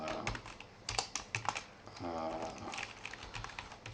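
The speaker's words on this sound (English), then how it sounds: "So let's type something in here." Someone types on a computer keyboard: a close, quiet run of irregular key clicks and taps, with a brief stretch of faint voice partway through.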